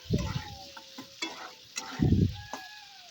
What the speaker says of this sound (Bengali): ভালোভাবে আলুটা লাল লাল করে ভেজে নেব